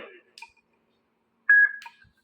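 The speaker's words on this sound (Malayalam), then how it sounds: "അപ്പൊ ഒരു ബീപ് ശബ്ദം വരുന്നുണ്ട് കണ്ടോ." A portable karaoke Bluetooth speaker gives a short, clear electronic beep when its button is long-pressed, heard once near the end, loud and close. Brief speech comes before it.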